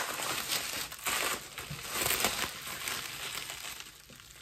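Bubble wrap around a boxed soy wax candle crinkles and rustles up close in soft, irregular bursts as it is handled and pulled away.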